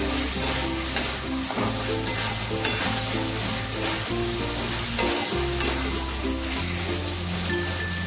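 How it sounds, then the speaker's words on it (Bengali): Eggplant pieces fry with spices in a pan under a steady, close sizzle, with the spoon scraping and knocking now and then as the pieces are stirred through. "এবার আমি বেগুনগুলো সব দিয়ে দিলাম। বেগুনগুলোকে দিয়ে ভালো করে মিশিয়ে নেব।"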